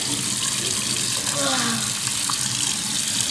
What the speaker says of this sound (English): Oh, I have to wash my hands.